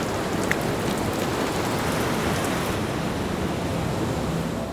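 Monsoon rain sweeping over the open sea off India's west coast, a dense, even hiss of heavy rainfall with a low surf-like rush underneath, steady and close throughout.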